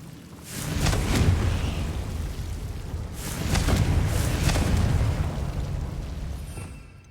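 Two heavy, rumbling blasts from the Confringo spell in the video game Hogwarts Legacy, each a loud booming burst that swells and lingers before fading, with no talking over them.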